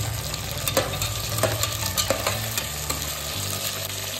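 Peanuts and carrots frying in a pan for a vegetable pulao, a continuous close sizzle broken by repeated stirring scrapes and spoon taps, with a low hum underneath and no talking.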